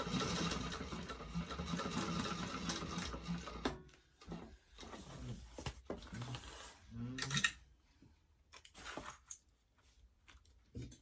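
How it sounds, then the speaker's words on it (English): A sewing machine runs in a continuous whirring burst, back stitching over the flap of a Trailblazer Convertible Pack bag, then stops and gives way to short intermittent clicks and taps of handling, faint and close. "Back stitch there again where that flap is."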